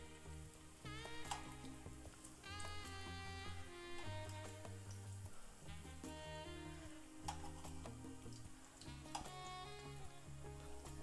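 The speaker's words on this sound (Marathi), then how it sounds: "अशा पद्धतीनं लो टू मिडियम फ्लेमवर आपल्याला कोफ्ते तळून घ्यायचे आहेत" Bottle gourd koftas deep-fry on a low to medium flame, giving a faint, continuous sizzle under steady background music, with no talking.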